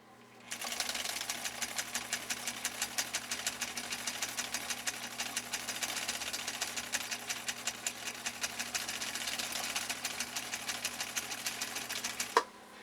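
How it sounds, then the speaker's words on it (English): A 1962 Husqvarna Viking Type 21E sewing machine stitches at a normal rate, its needle chattering in a fast, even rhythm with a steady motor hum, running nonstop for about twelve seconds before stopping with a click. "And obviously I'm sewing at a normal rate. I'm not using the slow gear right now."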